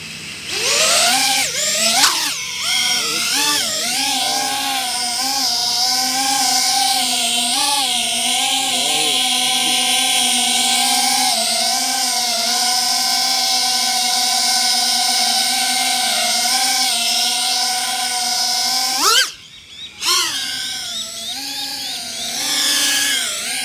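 A small 3-inch Gecko FPV drone on tri-blade props whines loudly and nearby, its high buzzing pitch rising and falling as the throttle changes, with brief cut-outs near the start and end.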